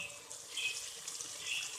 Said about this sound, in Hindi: थोड़ा सा इसमें पानी शामिल कर देंगे